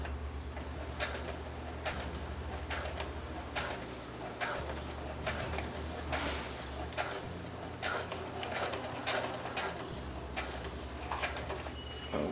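A sewing machine with a heavy-duty needle pushes slowly through thick denim jeans. Quiet, uneven mechanical clicking and clunking repeats in short bursts over a low hum.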